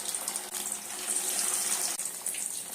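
Fish fries in hot oil in a pan with a dense, continuous sizzle that stays loud and even throughout, broken by one or two faint clicks.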